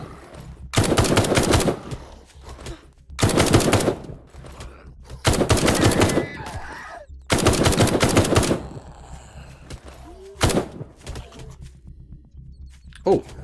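Loud bursts of rapid gunfire from the zombie survival video game Night of the Dead come in four long, evenly spaced volleys, then one short burst, with quieter game noise in the gaps.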